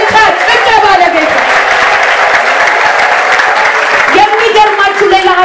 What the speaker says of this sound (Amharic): ታላቅ እልልታ ጭብጨባ ለጌታ